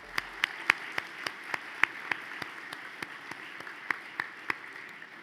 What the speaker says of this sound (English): Please give them all one more round of applause.